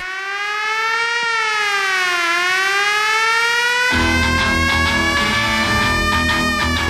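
A loud siren wails, its pitch sweeping up and down for several seconds before a driving music track abruptly kicks in over it.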